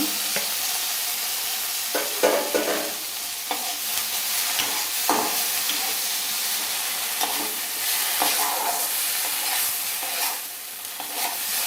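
A hand-mixed mixture frying in about a teaspoon of oil in a hot kadai over high flame gives a steady, close, dense sizzle, broken by frequent scraping stir strokes, with no one talking.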